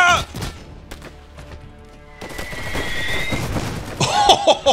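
Game combat in the diesel-punk strategy Iron Harvest, a unit opening fire on an infantry squad: rapid bursts of gunfire and thudding impacts, growing louder toward the end, with a voice heard over the battle.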